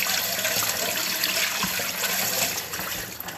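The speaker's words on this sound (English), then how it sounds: "Gotta rinse my hands a little bit." Hands rinsed under a running kitchen tap while chili is being made, a steady close splashing hiss of water that thins out near the end, with no talking over it.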